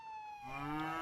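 A cow moos in the video game Contraband Police, one drawn-out bellow that swells louder toward its end, heard alone and close.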